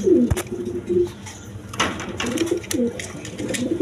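Pigeons at a pigeon sale coo in soft, throaty bursts close by, with a sharp click and scattered rustling between calls and a low murmur of background activity.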